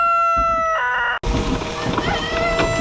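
Chickens, including Australorps, cluck and a rooster crows loudly nearby on a farm with sheep, the calls cutting off briefly before more clucking and farmyard noise continue.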